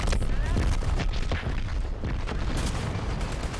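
Explosions boom in the shooter game Fragger, dense bursts of blasts and gunfire-like cracks in rapid succession while players talk over them.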